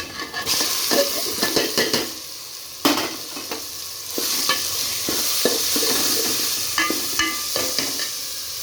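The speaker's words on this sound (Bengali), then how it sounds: "ভেজে নেবো ব্রাউন কালার করে নেব দেখে ব্রাউন কালার হয়ে গেছে এবার আমি শাকটাকে দিয়ে দেবো" Drumstick leaves fry in a pan and are stirred steadily, with a continuous loud sizzle and repeated scraping and clattering of a spatula against the metal, close up and without voices.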